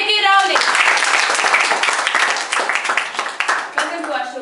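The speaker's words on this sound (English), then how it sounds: "Please welcome with a huge round of applause, Ms. J.K.Rowling." Audience applause welcoming author J.K. Rowling onto a talk show, a dense, loud wash of clapping sustained throughout, with a voice audible briefly at the start and end.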